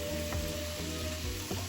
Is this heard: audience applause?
no